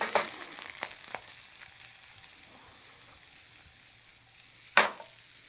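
Food frying in a pan with powdered ginger, a faint low sizzle with occasional scrapes and clinks of stirring, and one sharp utensil knock near the end.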